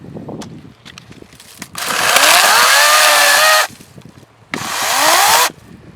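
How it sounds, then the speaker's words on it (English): A chainsaw cutting through wood at a homestead: two loud, close bursts of high revving, the first about two seconds long and the second shorter, with quieter idling between them. "It's about like a regular chainsaw would be."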